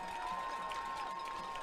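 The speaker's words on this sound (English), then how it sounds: "UT Martin crowd makes a little bit of noise" A crowd at a UT Martin Skyhawks college football home game against Lindenwood makes a faint, steady murmur from a distance, with a thin sustained tone running through it.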